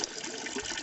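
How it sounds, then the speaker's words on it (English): Fresh water runs steadily from a tap or spout along a Scottish hill trail, a close, continuous gushing splash with no voices. "Nice fresh water."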